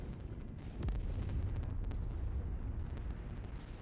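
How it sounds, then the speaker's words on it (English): Explosions of a destroyed tank and VTOL in the MechWarrior 5: Mercenaries video game, a sustained rumbling boom with crackling bursts, loud and continuous throughout with no talk. "VTOL going down. Tank going down."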